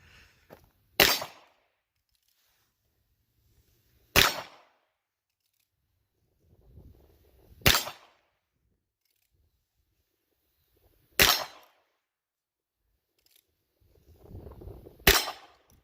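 .22 revolvers, a Ruger Wrangler and a Heritage Rough Rider, fire five single sharp shots outdoors, spaced about three seconds apart, each crack loud and alone with a brief echo.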